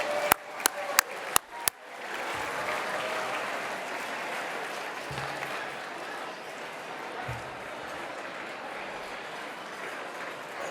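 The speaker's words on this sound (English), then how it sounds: "Let's give another round of applause to the dancers and the musicians." A banquet audience at the Marriott Hotel in San Francisco applauds dancers and musicians. A few sharp individual claps come first, then the room swells into sustained, dense clapping that carries on steadily to the end.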